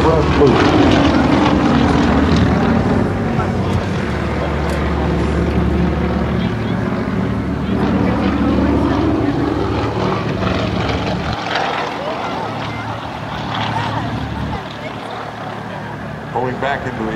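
Formation of aerobatic propeller aircraft flying a line abreast loop at an air show, a steady droning engine roar rising and falling as the planes pass, with an announcer talking over it throughout.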